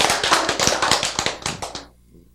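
Church congregation clapping together during a sermon, a fast run of sharp, close hand claps in quick rhythm that stops abruptly, leaving near silence.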